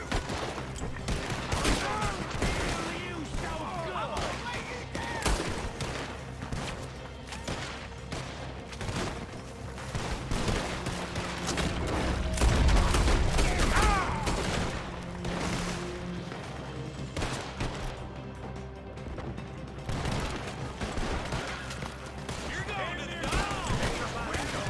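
Shotgun and rifle fire in the Red Dead Redemption 2 video game, a dense, sustained fusillade of sharp cracks and booms during a gunfight, with voices talking over the shooting throughout.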